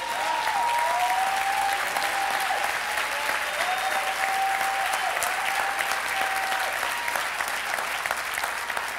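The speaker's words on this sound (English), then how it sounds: "give him a round of applause" Sustained audience applause fills the hall at a steady, loud level from start to finish, with cheers and whoops rising over the dense clapping at a convention event.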